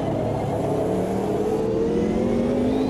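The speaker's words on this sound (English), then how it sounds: "Blipping on the downshift and in we go" Race car engine in the Automobilista 2 sim, a C Class machine, holding a steady loud drone with rising harmonic whine as a downshift throttle blip revs it up near the end; continuous, close, no voices.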